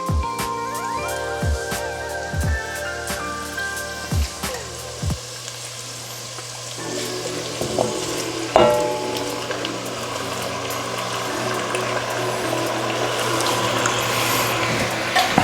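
Pork being sautéed in a pan with onions, a steady sizzle and frying hiss building after several sharp clatters and knocks of utensils, continuing close and fairly loud to the end.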